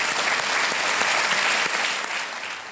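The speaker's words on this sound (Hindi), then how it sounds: "तालियां बज जाएं उषा यादव जी के लिए।" A studio audience on the TV quiz show Kaun Banega Crorepati, season 11, breaks into dense, sustained applause, a loud, even roar of many hands that fades slightly at the end.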